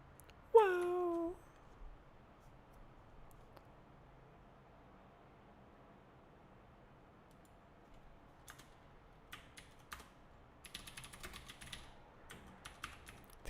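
Typing on a computer keyboard, sparse then quicker bursts of light key clicks, quiet and close, preceded by a brief squeaky sound.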